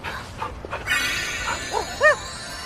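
An animated dog lets out a few short yips and whimpering barks, ending with one louder, rising whine. The sounds are brief and close, set over a faint background hum.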